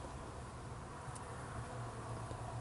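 Honeybees buzz around a backyard beehive in summer, a steady, continuous low hum of many insects heard at close range, fairly quiet, with no voices.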